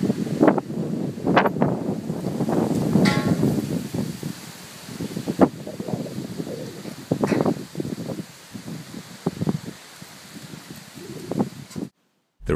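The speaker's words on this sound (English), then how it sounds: "It was actually very windy on the day I was assembling it." Strong wind gusts and rumbles steadily around an outdoor build, where rafters for a shipping-container house sunroof are being assembled. Rustling bursts rise and fall throughout, with no talking.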